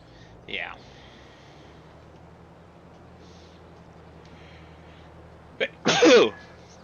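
A single person's sneeze near the end, a quick inhaled gasp followed by a loud burst, after a faint breathy sound earlier, over a low steady hum from a farming game.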